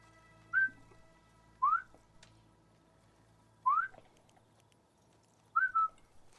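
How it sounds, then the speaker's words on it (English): Enemies whistle signals to each other in the video game The Last of Us Part II: four short, rising whistles spaced a second or two apart, fairly faint against a quiet background. "I can hear them whistling."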